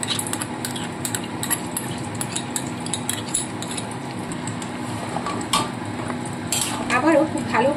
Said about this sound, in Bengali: আবারও খুব ভালো করে কষাতে থাকবো।